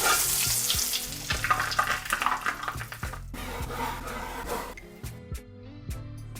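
A steak sizzles on a grill in a restaurant-style mixed grill, with steady frying hiss and scattered crackles under background music that thins out toward the end.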